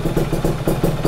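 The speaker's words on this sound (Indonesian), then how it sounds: "Ini udah sekitar 30 menitan motor nyala." A Kawasaki Ninja 150R two-stroke motorcycle idles after running for about half an hour, giving a steady, close, throbbing burble with a regular pulsing rhythm and no talk over it.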